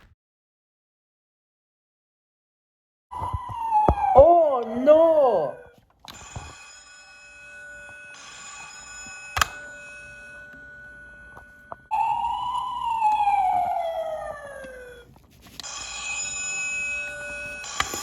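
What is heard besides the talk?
fire alarm ringing in Skarloey Railway movie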